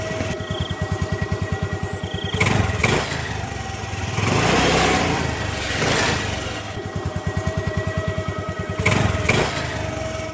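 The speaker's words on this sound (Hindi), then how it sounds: "बाइक चलाता हुआ जंगल के रास्ते अपने घर जाने लगता है" Motorcycle ridden along a forest road, its engine putting out a steady, rapid light putter close by, with periodic louder revving surges over the continuous drone and no talk.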